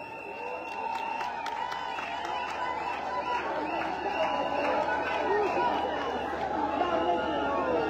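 A large crowd at an outdoor political campaign rally in Lastourville, Gabon cheers and applauds continuously, a dense, loud roar of claps and shouts that holds steady throughout.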